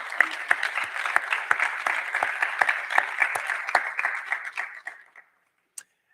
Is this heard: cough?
no